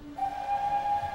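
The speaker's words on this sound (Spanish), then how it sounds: "Entonces, Gordon oyó un silbato preocupante." A cartoon steam locomotive whistle in Thomas & Friends sounds one sustained, steady high tone after a short pause, moderately loud and alone.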